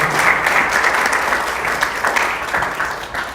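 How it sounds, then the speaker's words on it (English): An audience at a Hilo luncheon on Hawaii permitting claps steadily, dense and fairly loud applause from a roomful of people that holds even throughout. "how about a round of applause for KDE?"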